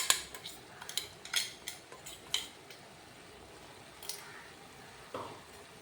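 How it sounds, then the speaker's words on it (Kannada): Spoon clinks and scrapes against a pan as ground masala is mixed into a cowpea (alasande) curry with tamarind and jaggery, a few sharp metallic taps early on, then quieter stirring. "ಈಗ ಮಾಡಿಟ್ಟ ಮಸಾಲನ ಮಿಶ್ರಣವನ್ನು ಹಾಕಿ ಮಿಕ್ಸ್ ಮಾಡ್ಕೊಳ್ಳೋಣ."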